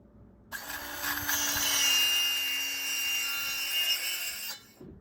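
A wood panel is cut for a storage case in one steady, continuous pass of about four seconds, close and fairly loud, with a faint hum underneath and no talking.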